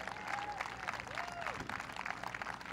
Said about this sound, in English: These guys need a massive round of applause